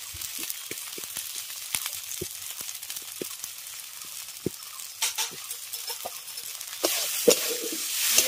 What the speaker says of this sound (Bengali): মশলাটাকে একটু ভেজে নেবো